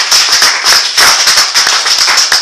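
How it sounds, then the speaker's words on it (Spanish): A church congregation claps during worship, a dense, steady burst of many hands applauding close and loud, with uneven clustered beats throughout and no talk over it. "Dale un aplauso a nuestro Dios"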